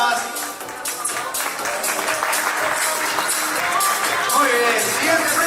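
At an awards ceremony, an audience applauds a university prize winner with a dense, loud round of clapping. Scattered whoops and cheers rise through the clapping, which holds strong for over five seconds.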